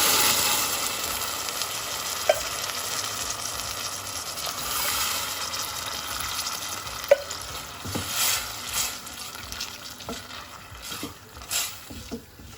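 Two cans of tomatoes tipped into a hot pan of homemade tomato sauce, sizzling and frying steadily with wet stirring scrapes and a few soft clinks, fairly close and alone.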